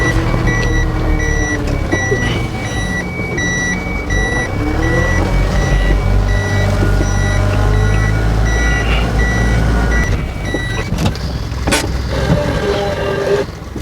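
A four-wheel-drive Canter truck rolls slowly down a small hill, its low engine drone steady and close throughout, with a repeating reversing-style beep pulsing above and a few clunks near the end.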